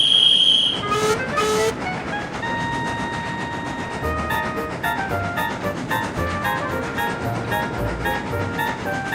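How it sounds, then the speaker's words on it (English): A steam engine on a small railway line gives a short whistle, then chugs along with steady rhythmic puffing and rail clatter, fairly loud and close, with no voices. "Peter Sam puffed happily away"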